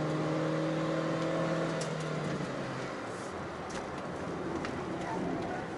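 A 2022 Proton Saga corners hard, its engine humming steadily with tyre and wind noise filling the cabin, while a driver's voice talks over it throughout.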